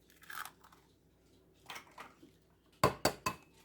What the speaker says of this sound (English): I'm going to mix them in a bowl and kind of break them up a little bit.